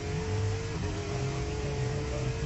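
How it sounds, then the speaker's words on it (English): Formula 1 cars roar with a steady, high-pitched engine whine that shifts pitch slightly as they rev, loud and continuous without pause. "And just to hear the roar of the engines,"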